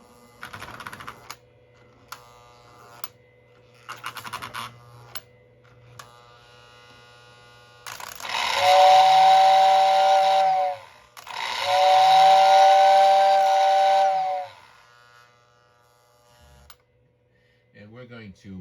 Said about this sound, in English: it has the classic Lionel whistle